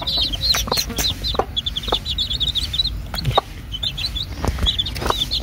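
Small chicks peep constantly in high, rapid chirps while a hen clucks nearby, with occasional soft knocks and rustling close by.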